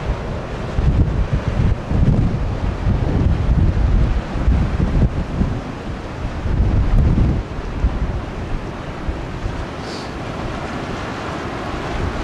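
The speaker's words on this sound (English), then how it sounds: "Come back out of the wind." Strong wind buffets the microphone aboard a small yacht at sea off a northern harbour village, a loud continuous roar with heavy low rumbling gusts and the wash of waves, no voices.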